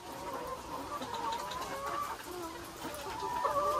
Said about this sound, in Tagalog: May mga manok na.